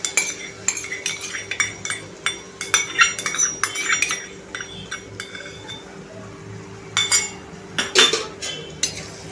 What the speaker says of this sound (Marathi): ती सुद्धा मसाल्यामध्ये छानपैकी आपण मिक्स करणार आहोत